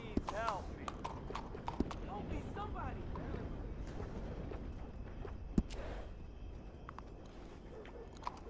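Horse hooves clip-clopping in Red Dead Redemption 2 on the streets of Saint Denis, a quiet steady patter running under game dialogue and background bustle, with one sharper thud partway through.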